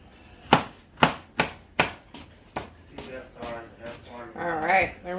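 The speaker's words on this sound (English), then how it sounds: "now I'm going to cut up 2 jalapenos." Knife chopping two jalapenos on a cutting board for a smoked chipotle steak sub: several sharp, evenly spaced chops up close, then faster, softer cuts, with a voice speaking over the final part.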